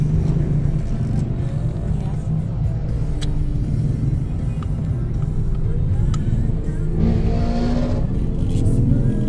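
A patok jeepney at night near Alabang, with a steady, close, throaty engine rumble under constant road noise and a brief rise in engine pitch toward the end.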